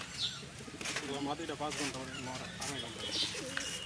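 Caged pigeons coo in soft repeated bursts close by, with occasional wing flutters, while people talk over them.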